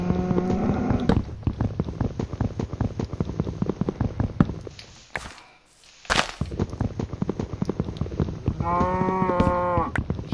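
A cow in Minecraft on PS4 moos twice, low and drawn-out, at the start and again near the end, amid busy game sounds and clicks with a brief dip into quiet in the middle.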